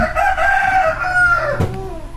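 A native rooster crows in a long, drawn-out call, loud and close, with a brief sharp knock near the end.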